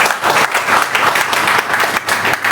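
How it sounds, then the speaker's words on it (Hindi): Audience applause in a hall at a women's day celebration, loud sustained clapping from many hands, dense and continuous with slight swells. "तालियां होनी चाहिए।"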